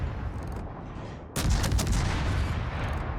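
A sudden heavy boom of naval gunfire from the destroyer Hull firing armor-piercing shells in a video game breaks through a low rumbling background, leaving a loud rolling blast that lingers.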